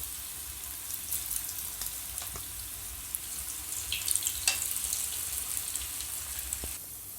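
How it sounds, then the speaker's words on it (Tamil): Baby potatoes frying in hot oil for a South Indian potato masala, giving a steady, fairly faint crackling sizzle throughout with a few louder pops and no talk. "இப்போது இதை எண்ணெயில் போட்டு ஃப்ரை பண்ணி எடுத்துக்கலாம்."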